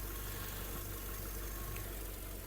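A 2006 Volkswagen Touran with a 1.6 MPI petrol engine idles steadily and quietly, a smooth continuous hum with a low even drone throughout and no other sounds.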